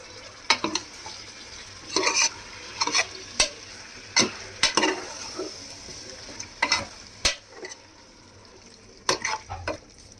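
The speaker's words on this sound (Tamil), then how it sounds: "நம்ம எடுத்து வச்சுக்க தயிர் இதில் போட்டு மிக்ஸ் பண்ணிக்கலாம்." A spoon stirs yogurt into biryani masala in a pot for a cheeri samba chicken biryani, giving repeated scraping, clacking strokes at an uneven rhythm over a faint background, with no talking.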